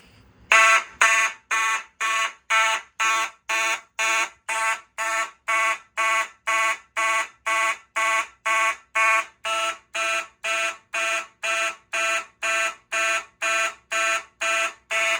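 Simplex 4001 fire alarm system sounding off: a loud, harsh electronic horn pulsing in a steady, rapid rhythm of about two blasts per second, continuous and alone throughout.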